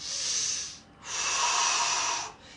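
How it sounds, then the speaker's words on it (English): Deep breathing during a chair yoga session: two long, airy breaths close to the microphone with a brief pause between them, and no talk. "Breathing deeply."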